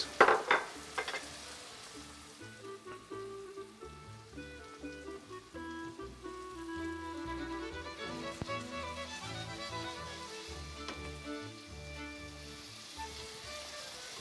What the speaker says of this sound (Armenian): որքան կարելի է բարձր ջերմաշան, որ սոխը շտապ կեղևապատվի